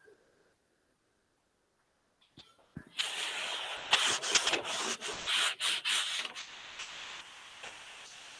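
A lecturer rubbing a board clean in a classroom, heard as a burst of brisk, close, scratchy wiping strokes that begins after a quiet pause and continues in rhythmic, uneven swipes.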